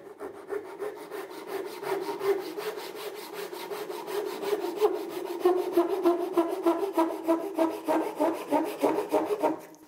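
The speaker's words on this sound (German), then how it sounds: "Jetzt sägen wir den Rest von Hand, aber wir haben ja eine super Führung durch den Sägeschnitt" Handsaw cutting through wood along a kerf guide, steady back-and-forth strokes rasping in a regular rhythm that grows more pronounced toward the end, close and alone.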